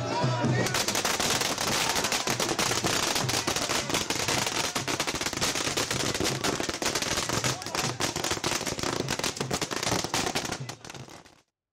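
Dense crackling bursts of firecrackers set off by party workers at a Bihar election victory celebration in Patna, loud and continuous for the whole stretch, with rapid overlapping pops.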